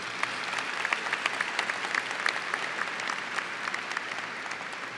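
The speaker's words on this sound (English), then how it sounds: "would give your parents and friends and mentors one more round of applause" A commencement crowd at a University of South Carolina graduation applauds, a broad steady roar of clapping from a large hall with sharper individual claps popping out across the whole span.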